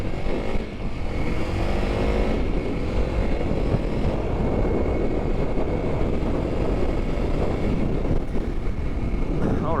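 A 2021 Honda CRF300L motorcycle pulls hard while merging into traffic flowing around 50 mph, its engine drone steady and loud under heavy wind rush throughout.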